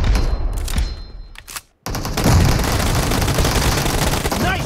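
Bursts of rapid automatic gunfire ring out during a PUBG match. A loud volley comes first, then a short silence, and then sustained, dense firing rattles on close and loud.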